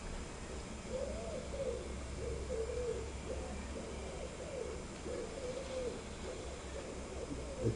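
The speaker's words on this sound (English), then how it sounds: "The cooing, unfortunately, is a pigeon." A pigeon coos softly and repeatedly in a low, rolling rhythm, somewhat distant, inside an old Saxon church, under a steady background hiss.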